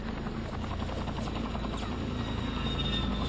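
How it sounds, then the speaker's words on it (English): Helicopters flying overhead in a virtual reality therapy scenario, a steady loud rotor thrum and whine continuing throughout with no talk. "helicopters flying overhead."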